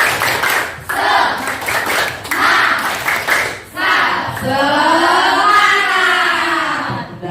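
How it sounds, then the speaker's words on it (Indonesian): A classroom group performs a rhythmic clap chant, sharp claps in short bursts trading with voices, then chanting or singing rising over the rhythm in the second half. "Kita tepuk semangat dulu sebentar ya. Nah, tepuk semangat."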